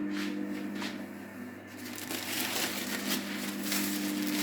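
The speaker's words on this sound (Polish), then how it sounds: "można już zdjąć tą folię" Protective plastic film peels and crinkles off a surface in a newly finished bathroom, giving a continuous close crackling rustle with brief louder tearing bursts, heard without talk.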